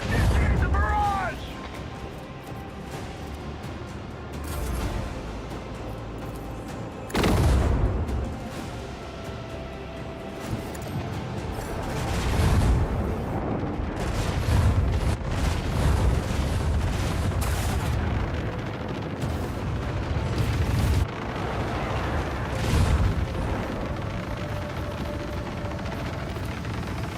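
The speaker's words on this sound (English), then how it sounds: "Initiate the barrage!" Artillery barrage in the video game Warhammer 40000 Rogue Trader, a rolling sequence of deep booms and blasts over a steady rumbling bed, with a voice speaking briefly in the mix.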